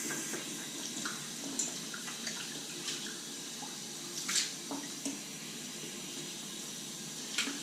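Bathroom tap running for a rinse after a straight razor shave, a steady moderate stream with small splashes and drips from hands and face in the basin, no talking.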